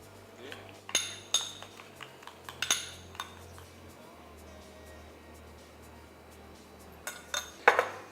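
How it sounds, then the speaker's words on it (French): A spoon clinks and scrapes against a bowl while tuna stuffing is mixed with cooked rice and egg, giving scattered sharp metallic taps among quieter stirring, with a low steady hum underneath. "On mélange le tout."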